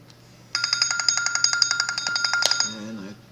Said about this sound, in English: And that's the phone.